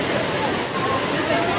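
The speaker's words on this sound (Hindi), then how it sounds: "पानी कैसा आएगा, पानी की तेज देखना, पानी कितना तेज आएगा, स्पीड देखना।" Fast-flowing sea water at Haji Ali Dargah makes a steady, loud rushing wash, continuous and close, with no clear pauses.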